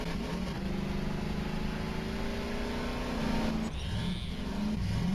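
A turbocharged vehicle engine in Voices of the Void drones and revs steadily up close, its pitch climbing for a few seconds, dipping briefly, then rising again with a faint turbo whine on top.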